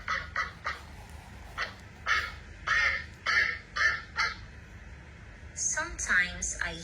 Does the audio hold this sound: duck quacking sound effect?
yes